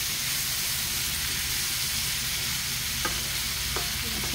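Garlic and onion sauté in a hot pan with a steady, close sizzle and frying crackle, occasional stirring clicks and no talk.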